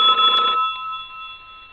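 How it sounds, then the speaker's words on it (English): In a radio play, a telephone bell rings in a short loud burst, then its tone hangs and fades out. "Ringing the police department."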